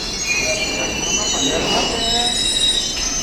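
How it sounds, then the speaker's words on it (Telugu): A train's wheels squeal loudly and continuously against the rails as it rolls into Tadepalligudem railway station, with a rumbling rail noise underneath. "ఈ రైలు వచ్చేస్తుంటుంది"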